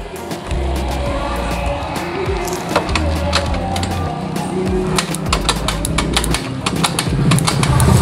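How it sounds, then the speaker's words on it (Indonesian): A TVS Dazz motorcycle's starter cranks with no compression, a light free-spinning whir in repeated bursts mixed with mechanical clicks and rattles, close and moderately loud. "kalau kita lihat di sini starternya ringan sekali, kayak nggak ada kompresi ya"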